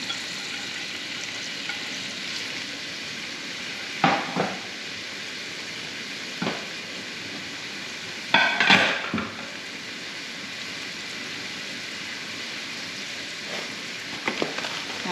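Chopped onion fries in oil and browned chicken drippings in a pan, making a steady medium sizzle broken by a few short bursts of stirring and scraping, with no talking.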